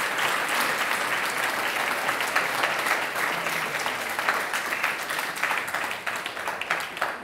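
Audience applause at a German public discussion event on trust in politics, a dense, steady clapping from a crowd that continues throughout, moderately loud with no speech over it.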